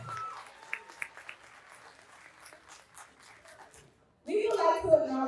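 At a high school royal coronation ceremony, a crowd breaks into loud applause and cheering near the end, after a stretch of quiet murmuring, faint scattered clatter and a brief hush.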